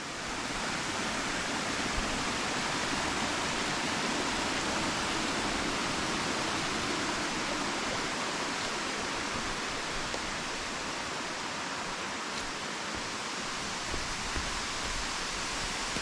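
Tat Kon waterfall in Houaphanh, Laos, where water falls steadily over tiered rock, heard as a constant, dense rushing hiss with no breaks, fairly close and unchanging throughout.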